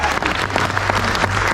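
Wedding guests applauding at a reception, dense steady clapping from a crowd close by, loud and continuous with a low hum beneath.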